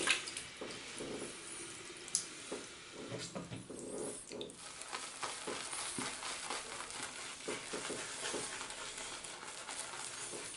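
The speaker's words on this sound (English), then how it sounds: "wet the brush a little bit" Water runs from a tap as a shaving brush is wetted, a soft, steady splashing trickle close by that continues throughout with a few louder knocks, no talk.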